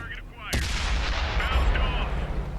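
A single loud tank cannon blast from a Japanese STA-1 medium tank in World of Tanks, sharp and close, followed by a rumbling tail and battle noise.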